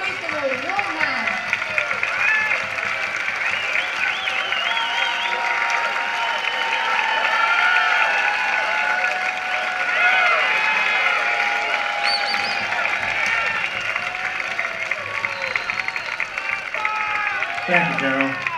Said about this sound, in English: Please give him a warm hand.